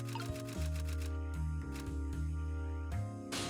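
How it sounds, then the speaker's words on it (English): A typewriter clacks in Ghost Trick: Phantom Detective as a quick flurry of light key taps over steady, tuneful game music, with a few more scattered clicks later. "She's got a typewriter."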